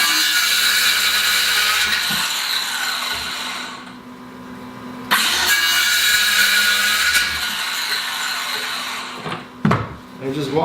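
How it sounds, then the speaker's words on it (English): Circular saw ripping through wooden boards, loud whining cuts close by that stop abruptly and start again, with a brief pause between passes and a short clatter near the end. "I'm gonna do it with a circular saw,"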